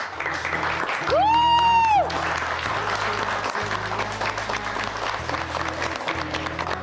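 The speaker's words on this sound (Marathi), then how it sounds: "तिच्यासाठी जोरदार टाळ्या." A studio audience on a Marathi TV game show claps in a sustained burst for the musical chairs winner, with a loud electronic tone sounding early on and the applause continuing steadily beneath low background music.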